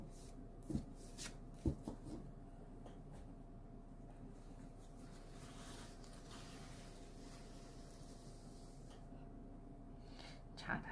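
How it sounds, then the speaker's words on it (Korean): Tarot cards are shuffled and drawn, with soft, faint papery riffling and a few sharp card snaps near the start and end against a quiet room background. "그러면 추가 카드 뽑아보겠습니다."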